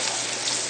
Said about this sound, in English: So we'll cook a little on each side as it's sauteed